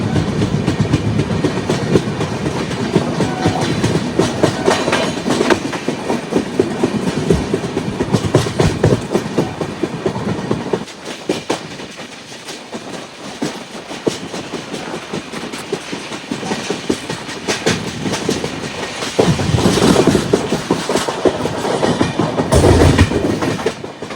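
Netravati Express rolling along the single-track Konkan Railway after leaving Veer station, a loud steady rumble with rhythmic clickety-clack of wheels over rail joints, briefly easing midway before swelling again.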